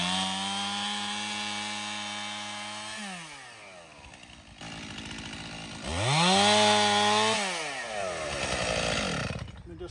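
A chainsaw cutting through a tied bundle of pampas grass, its engine droning steadily, dropping to a lower idle, then revving up loudly again with rising and falling pitch, close by.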